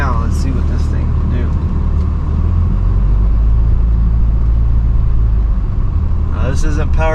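A Cummins diesel truck engine, 2005 to 2007 with its injectors, roars at full throttle in a loud, steady, close rumble throughout, with a voice speaking over it.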